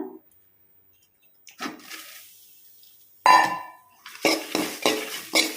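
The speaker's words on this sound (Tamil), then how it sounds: "தேங்காய் துருவும் ரொம்ப கருவும் வறுக்கக்கூடாதுங்க" Grated coconut roasting in a pan for Mangalore-style fish curry, heard as intermittent spoon scrapes and metal clinks against the pan with light sizzle, quiet pauses between bursts of stirring, close and with no talk.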